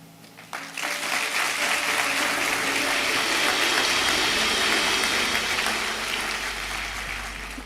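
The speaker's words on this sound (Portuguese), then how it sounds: "Hoje só vou pedir que eles levantem-se e nós vamos aplaudir." A large audience at a Christian talk bursts into loud, sustained applause for the speaker's team as they stand, rising sharply after a brief quiet start and holding as a dense, continuous roar of clapping.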